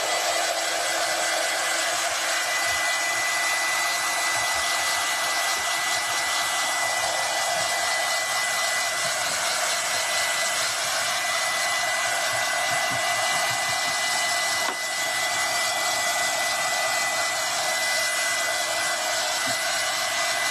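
A hair dryer blows steadily on a craft piece, a bunny-themed shelf, with a loud, continuous airy roar and motor whine lasting the whole time without pause.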